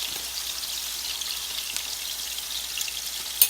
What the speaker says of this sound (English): I sauteed the onions down into butter and a little bit of oil